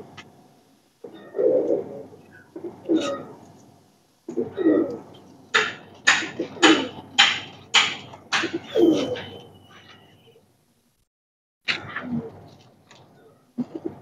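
Royal Teddy pigeons coo repeatedly in low, throaty bursts nearby, with a run of sharper flutters and calls in the middle and a brief pause before more cooing.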